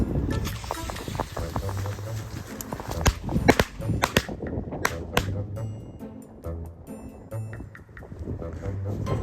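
Pirát firecrackers burst after being lit outdoors, a rapid irregular string of sharp, loud cracks and pops, some scattered further off in the air, with a person talking between the bangs.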